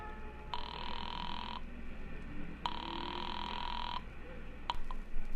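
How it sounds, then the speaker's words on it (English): Old telephone line ringing after a call is dialed, two long buzzing rings separated by a pause, followed by a click as the line is picked up, heard through a faint background hum. "dropped the nickel in and dialed Republic 2809 again"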